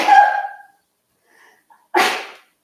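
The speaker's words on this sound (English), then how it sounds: "I literally just walked over there and sneezed like this." A person sneezes loudly and close by, a sharp burst at the start, then a short pause with faint small noises, followed by a second breathy, noisy burst.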